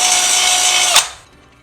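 Power drill boring out thick powder coat on a part from a 1963 Bolens Husky 600 tractor, a steady close whine for about a second that ends in a short bite, then quickly falls away to near silence.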